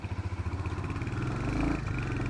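A Royal Enfield Hunter 350 motorcycle engine thumps with a steady, rapid single-cylinder pulse close to the microphone, its low rumble rising slightly as it runs on.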